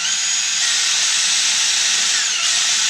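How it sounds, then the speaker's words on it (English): Power drill spinning in reverse, whirring steadily at high speed, a loud close hiss-like motor whine that holds for a few seconds. "I'm going to put it in my drill, chuck that up, hit reverse"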